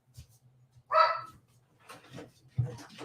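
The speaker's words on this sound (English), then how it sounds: "Otherwise they bark for no reason at nothing" Indoor dogs barking in a short burst, with one loud clear bark followed by smaller yips and a low background hum.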